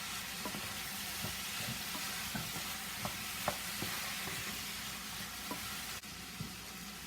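Chicken gizzards and kale sauté in a pan with onions, pepper, garlic, parsley and green onions, producing a steady bright sizzle with scattered small pops and stirring clicks, continuous and close.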